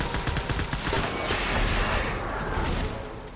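Dense, loud gunfire in Death Stranding, a sustained roar of shots and booms rolling over a few seconds with no speech.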